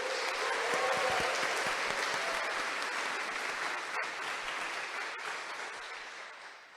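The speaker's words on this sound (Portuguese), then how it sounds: "Então brada uma salva de palmas para ele." Applause from a church congregation swells and fades over several seconds, a dense patter of many hands clapping that gradually thins and softens toward the end.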